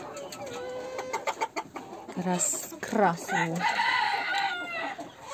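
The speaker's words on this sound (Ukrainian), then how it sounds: "Дуже гарний півник." A rooster clucks and crows in a backyard flock of laying hens, close and fairly loud, in several short bursts, with a person speaking briefly.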